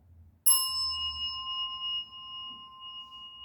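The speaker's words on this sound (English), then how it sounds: "when he bows, that's when you start the first bell" A single bell is struck once at the start of a Zen service, a clean ringing tone that sustains and slowly decays with no one speaking.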